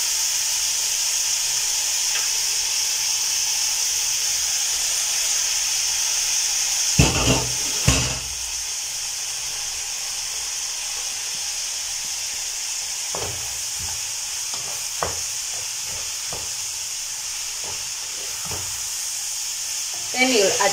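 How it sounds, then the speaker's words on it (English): Spring onions and defrosted peas frying in a pan for vegetable rice, a constant loud hiss and sizzle throughout with occasional clinks and stirring scrapes, nearby and without talk. "It's time to add in my spring onions."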